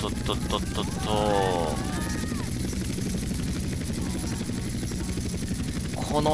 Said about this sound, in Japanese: このヘリ重たいから、